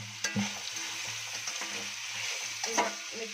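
A vegetable pulao mixture with small carrot pieces sizzles in a pan while it is stirred, with soft scraping and clinks of the spoon over a steady fry, close and fairly quiet.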